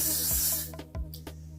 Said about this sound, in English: come on spray the hair.